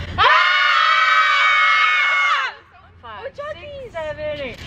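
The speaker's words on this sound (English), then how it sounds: "we're out here practicing our screams" Group of students screaming together outdoors while practicing screams for a dance, a loud sustained shrill chorus lasting about two seconds, followed by a few shorter, quieter voiced squeals and laughs.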